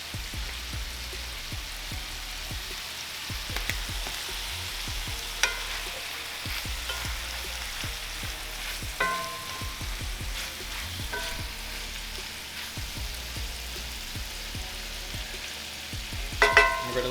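Mushrooms and asparagus frying in a pan, seasoned with salt and pepper, giving a steady soft sizzle with scattered crackles and pops throughout, close and fairly quiet, no voices.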